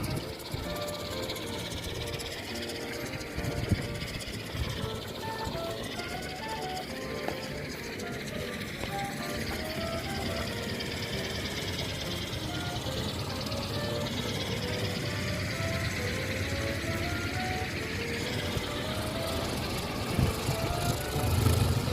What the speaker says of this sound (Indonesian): Baling-balingnya udah mulai muter. Anginnya udah mulai kenceng.